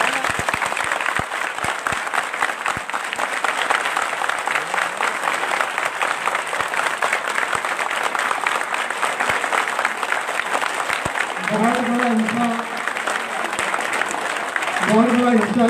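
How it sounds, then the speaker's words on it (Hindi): A rally crowd at Gandhi Chowk, Hamirpur, during the Jan Ashirwad Yatra, applauds in a long, dense wash of clapping, with a few loud shouts rising over it near the end. "तो एक बार दोनों के लिए जोरदार ताली लगाओ।"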